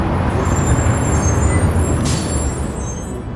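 A bus idles loudly with continuous low engine rumble, and its air brakes release a short sharp hiss of compressed air about two-thirds of the way through, close by.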